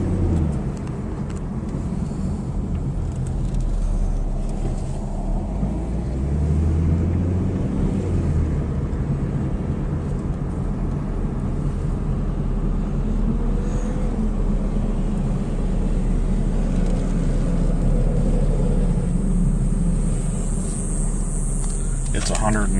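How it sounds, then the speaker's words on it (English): A car drives through Las Vegas on a 109-degree day with its windows open, giving a continuous low road rumble and rushing wind throughout. A voice talks over the noise. "I've got the windows open in the car"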